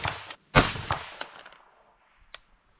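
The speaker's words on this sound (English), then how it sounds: "We're going to shoot top right target." A 22 DPC rifle fires Berger VLD bullets at a target during a bullet test, one sharp, loud report with a short decaying echo, then a faint distant crack.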